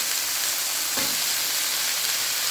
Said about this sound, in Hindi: मेथी के साथ ही आलू डाल दीजिए।